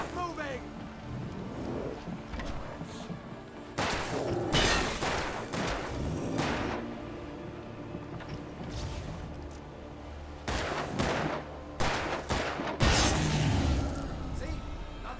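Gunfire in the video game Alan Wake, with several loud bursts of rapid shots and booms separated by quieter stretches of low ambient rumble.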